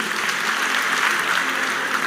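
A church congregation claps during a Sunday service, a thick, continuous burst of applause from a large crowd filling the whole moment.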